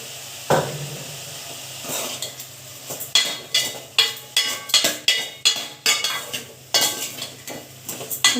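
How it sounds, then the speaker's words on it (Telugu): A spoon stirs egg masala curry in a cooking pan, giving repeated rhythmic scraping and metallic clinks roughly every half second over a faint sizzle, with no talking. "ఇలా తిప్పుకొని మూత పెట్టేసుకున్నామండి."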